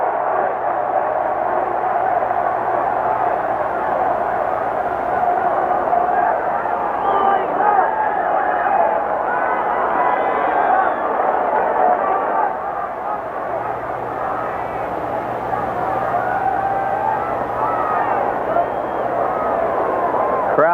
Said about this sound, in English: Crowd continues to chant